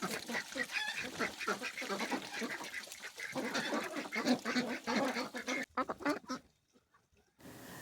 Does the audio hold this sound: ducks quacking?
yes